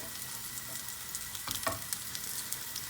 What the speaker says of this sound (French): on ne touche plus pendant quelques secondes afin de réellement marquer en cuisson le champignon